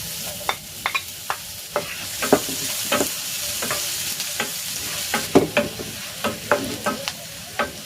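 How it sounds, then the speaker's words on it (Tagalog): Ginger and garlic sautéing in a pan for a milkfish dish with salted egg in coconut milk, a steady close hiss of frying broken by a regular series of sharp utensil scrapes and taps, with no talking. "Igigisa ko na tong luya. At itong bawang."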